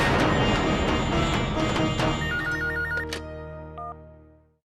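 A telephone rings loudly with a bright, repeating electronic ringtone in a domestic scene, ending in a few tonal beeps as the call is picked up.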